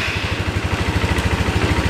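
An enduro-converted scooter engine runs just after its first start, a steady rapid puttering idle with even rhythmic pulses, close and loud with no talk.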